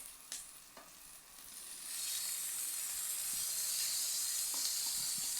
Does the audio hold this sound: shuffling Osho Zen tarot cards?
no